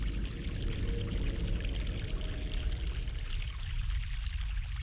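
A fresh mountain stream in the video game The Longest Journey pours and gurgles in a continuous, even rush of water, close and alone, with no voices over it.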